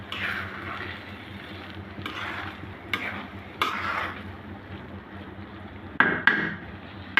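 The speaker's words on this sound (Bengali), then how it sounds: "ঘি দিয়ে ভালো করে মিশিয়ে নেব।" Prawn pulao is mixed with a spoonful of ghee in a pot. Spoon strokes scrape and knock at irregular intervals over a faint sizzle, with two louder clanks near the end.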